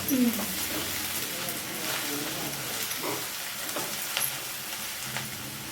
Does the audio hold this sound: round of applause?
no